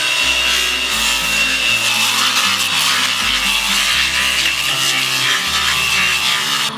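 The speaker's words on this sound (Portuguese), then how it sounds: "formão, ali você faz o arredondamento da perna" A chisel rounds a carved wooden leg, giving a steady, continuous scraping and rasping of blade on wood throughout, played against prominent background music.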